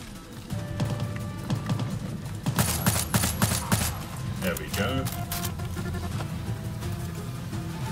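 Bursts of rapid gunfire in Far Cry 6 crackle in the middle of the clip over a low rumbling game soundscape, moderately loud, with scattered clatter afterward and a voice talking throughout.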